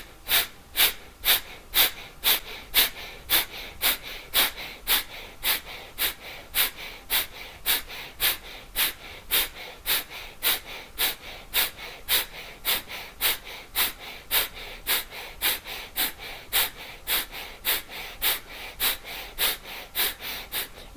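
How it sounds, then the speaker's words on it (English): Strong, rapid pranayama breaths in a morning breathing practice repeat steadily, about two per second, for the whole stretch. Each forceful nasal exhale is crisp and close, with no speech. "So lots of strong rounds of breathing, and then we'll have a breath hold at the end."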